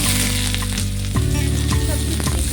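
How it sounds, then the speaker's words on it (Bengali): Chopped garlic, green chilli and onion fry in oil with a loud, dense, continuous sizzle and crackle, with scraping stirring sounds close by, for about two and a half seconds. "এই তেলের মধ্যে দিয়ে দেবো সামান্য একটু রসুন কুচি দিয়ে দেবো কাঁচা লঙ্কা আর পেঁয়াজ"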